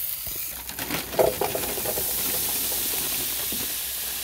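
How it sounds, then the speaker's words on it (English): Diced corned beef fries in a pan during a camp cook in a van, giving a steady, close hiss and sizzle, with a few light clatters early on. "we're gonna let that fry for a little while"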